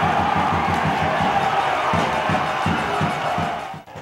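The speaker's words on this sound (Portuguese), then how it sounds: "Enquanto a torcida fazia a festa" A home football crowd at a Nacional versus Gênus match celebrates a goal, a loud wash of stadium noise with steady rhythmic thumping, like drums or stamping, running through it before it fades at the end.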